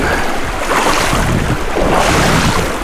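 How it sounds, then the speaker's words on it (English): Rapids on Clear Creek, a fast California creek, rush loud and close as a dense, continuous roar of churning water with broadband noise throughout and no voices. "Class 5 rapids, oh yeah."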